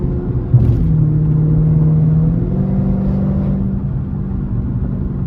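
A car engine, a Dodge Charger Scat Pack, is pushed hard under full throttle, a loud close rumble whose tone climbs and shifts through the rev range from inside the cabin.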